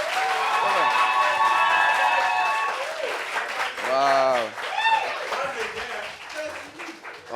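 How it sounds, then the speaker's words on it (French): A TV studio audience applauds a talk show guest, a loud, even wash of clapping for a few seconds that then thins out under excited exclamations and voices. "Applaudissements pour elle."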